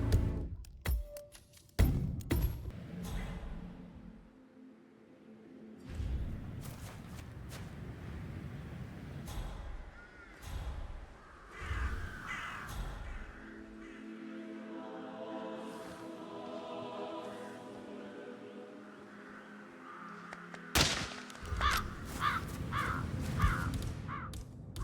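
Crows caw in the Hitman 3 video game, harsh calls scattered through a busy stretch of game sound effects and ambience, with no talk.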